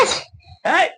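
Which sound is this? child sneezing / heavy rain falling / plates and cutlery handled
child sneezing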